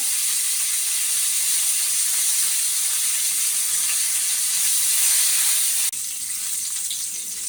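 Curry leaves hit hot oil for a temple-style Goan mung dish and make a bright, continuous hiss. The sizzle stays loud and close, then drops slightly near the end.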